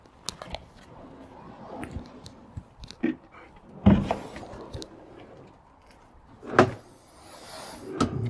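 Sliding storage drawers in the rear of a Starex camper van are opened and shut, giving scattered soft rumbles and several sharper knocks and clunks at irregular intervals in a quiet setting.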